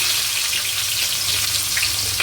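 A dense, steady sizzle of onions frying in hot oil, loud and close, with a faint clink near the end.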